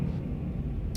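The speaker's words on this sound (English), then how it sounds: "excuse the plane" A low, steady rumble of an aircraft droning overhead, continuous and fairly loud throughout.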